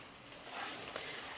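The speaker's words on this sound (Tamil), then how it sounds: "இப்போ பூண்டு சேர்த்து நல்லா வதக்கி விட்டுருங்கம்மா." Quiet, steady sizzling of garlic and onion sautéing in oil in a pan, a soft continuous crackle with a brief stir partway through.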